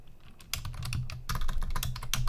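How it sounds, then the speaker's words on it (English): Someone types on a computer keyboard in a quick, uneven burst of close key clicks, with a short pause partway through. "I'm going to type"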